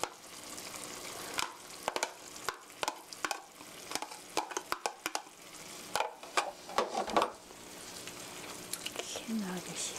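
Chopped kimchi stir-fried with pork in a pan gives a soft sizzle, cut through by repeated sharp scrapes and knocks of stirring at an irregular pace, while a person talks over it now and then.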